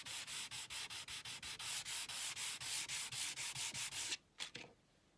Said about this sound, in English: there's still some more sanding to do